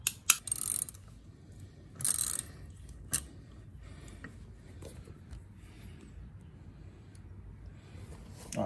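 A ratchet wrench loosens a 19 mm harmonic balancer bolt on an LS1 engine, giving a few sharp, close metallic clicks and clanks at the start with quieter mechanical handling noise afterward and no talking.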